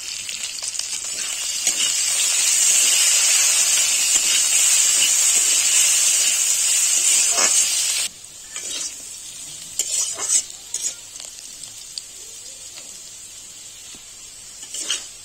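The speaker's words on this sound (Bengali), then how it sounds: "মাছ ভাজার তেলে আলুগুলো ভেজে নেব।" Potatoes frying in oil left from frying small fish: a loud, close hissing sizzle for about eight seconds, then dropping abruptly to quieter crackles and stirring clatter.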